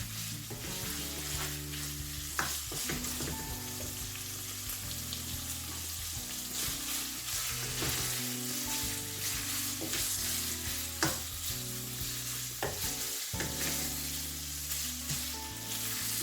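Lamb and chicken mince fries in a karahi with green chili added, giving a steady, close, dense sizzle with occasional stirring scrapes and clinks throughout, and no voices.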